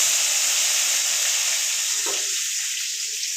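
Curry leaves go into hot reused oil with mustard seeds, letting out a loud, steady, close sizzle with a brief crackling burst partway through, and no one speaks.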